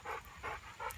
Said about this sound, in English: lovely dog who has been following me all the time I've been riding my bike